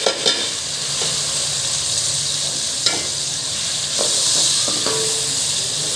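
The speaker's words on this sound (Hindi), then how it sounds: "उसी ऑयल के अंदर हम प्याज डाल देंगे।" Onions frying in hot oil for chicken karahi, a steady bright sizzle and hiss with occasional stirring clinks, close and continuous with no talking.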